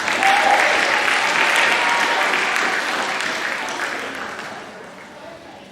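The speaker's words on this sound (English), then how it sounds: "Give them a big round of applause." A crowd at a 2018 school awards ceremony applauds in a loud, sustained burst of clapping that gradually fades away.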